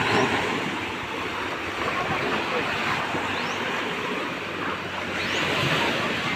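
Strong sea waves surge against the shore in a continuous rumbling wash, swelling at the start and end, with wind buffeting the microphone and a voice faintly present.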